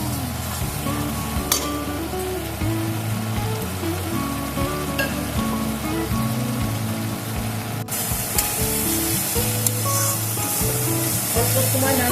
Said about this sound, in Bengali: এবার আমি মিক্সিতে যে সর্ষে পোস্ত কাঁচা লঙ্কাটা বেটে রেখেছিলাম ওটা এখন দিয়ে দেবো। এটাকে দিয়েও আমি কিছুক্ষণ নাড়াচাড়া করে নেব।